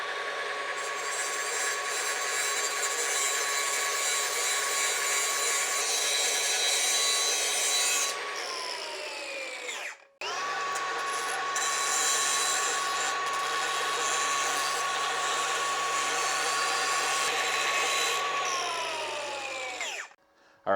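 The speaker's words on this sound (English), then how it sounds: "I'm going to clean this channel up along the edges, and I'm just going to try to run a little, I guess, V-groove down it." An angle grinder or similar power tool cuts a V-groove along the welded channel edges of an Eastonmade FG60 grapple, running steadily and loud with a high whine, stopping briefly near the middle and again at the end.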